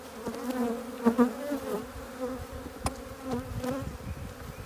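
Honeybees buzzing steadily and close around an opened, completely full hive during an inspection, a dense drone that swells and dips with a few sharper passes near the listener.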